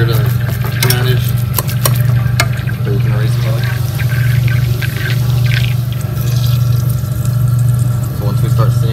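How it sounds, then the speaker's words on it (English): Boiled potatoes are mashed in a pot for garlic mashed potatoes: soft squelching and scattered clicks of the masher against the pot, over a loud steady electrical hum. "Now I'm just mashing them up, making sure they're a little bit easier to manage"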